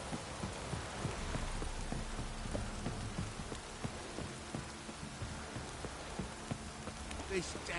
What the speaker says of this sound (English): This downpour's a bastard, it is.